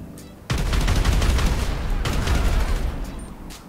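A minigun in GTA 5 fires a rapid, continuous roaring burst that starts abruptly after a brief pause and rattles on loud and close for about three seconds before tapering.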